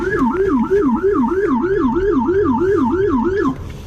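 A loud, close police patrol car siren wails in a fast, steady up-and-down pattern for several seconds before cutting off.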